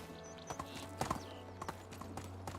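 Horse hooves clip-clopping at an easy trot in Medieval Dynasty, a steady rhythm of soft, fairly faint hoofbeats with a light whinny-like sound in the background.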